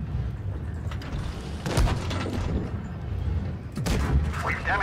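Heavy tank cannon shots boom out twice in World of Tanks Blitz, loud broadband blasts spaced about two seconds apart over a constant rumbling game backdrop.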